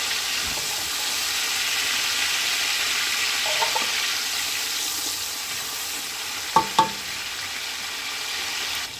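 Tomatoes and green chillies sizzle in a pan for vegetable pulao, a steady broad hiss running throughout, with a couple of sharp utensil knocks near the end.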